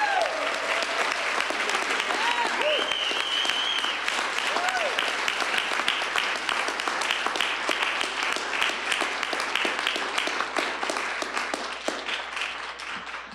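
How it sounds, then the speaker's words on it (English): Sustained audience applause at a school board of education meeting, a dense, steady wash of many hands clapping for students for the whole stretch, with scattered voices and cheers mixed in, tapering slightly at the end. "Let's give all of our students a big round of applause."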